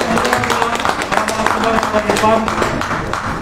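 Audience applause at a panel discussion, dense continuous clapping from a room of people, fairly loud and steady, with some voices mixed in underneath.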